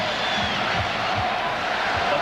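Arena crowd at a Chicago Bulls basketball game, a steady, loud roar of cheering and whooping filling the space with no pauses.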